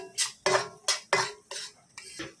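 Spoon scraping and stirring roasting kulthi flour with turmeric and chilli powder in a pan, six distinct scrapes in a loose rhythm, close and clear with no talk.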